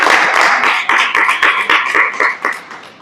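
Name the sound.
applause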